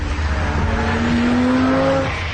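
A four-wheel-drive performance car accelerating hard, its engine note rising steadily over a steady roar of road and tyre noise, loud and close throughout.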